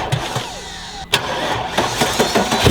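A motorcycle engine being started for a budget race team turns over, catches with a sharp burst and settles into a close, loud, uneven running note.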